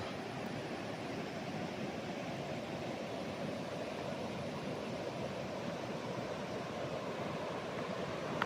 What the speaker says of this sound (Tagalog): Ang ilog.